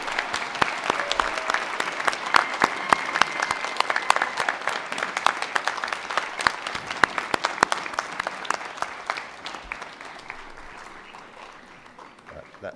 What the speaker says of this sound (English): Now please give a round of applause